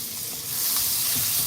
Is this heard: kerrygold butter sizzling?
yes